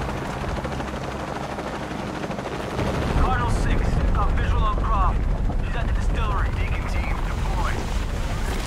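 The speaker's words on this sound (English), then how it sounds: "Oh no, that's a helicopter." In the video game Shadow of the Tomb Raider, a helicopter's rotor thumps in over a rumbling background, growing louder midway while bursts of gunfire and a voice break in over it.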